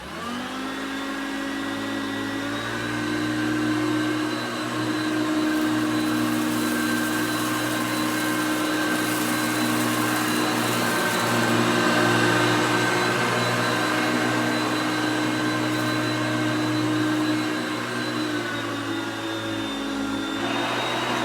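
A Hoover Concept One vacuum cleaner runs on its power surge mode, a loud steady motor whine with a shifting pitch that holds for the whole stretch, close and without talk.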